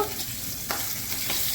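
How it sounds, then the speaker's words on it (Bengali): Rohu fish pieces fry in hot mustard oil with a steady, close sizzle and crackle, broken by a couple of brief stirring scrapes, no voices. "এটা আমি সর্ষের তেলে করব। প্রথমে মাছগুলো ভেজে নিচ্ছি।"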